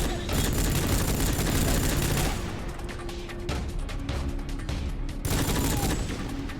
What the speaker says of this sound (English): I really thought the artillery was firing at me specifically